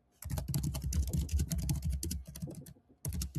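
Rapid, steady typing on a computer keyboard while writing an email, with dense clacking keystrokes close up, a brief pause near the end and then another burst of keys.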